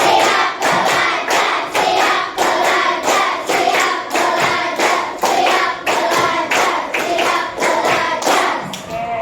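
Elementary school pupils in an SDN Tengah 03 classroom clap together in an ice-breaking game, a loud, close run of rhythmic group claps in repeating bursts with no talking.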